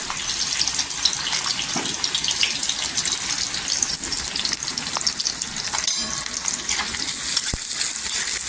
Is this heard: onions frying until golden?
yes